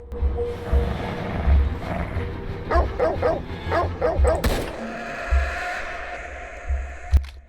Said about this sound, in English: I hear dog panting.